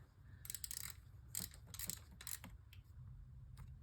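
A ratchet with a deep socket on a 6-inch extension clicks in quick uneven bursts while loosening a nut on a 1995 Mustang GT lower intake manifold, close but fairly quiet over a low hum.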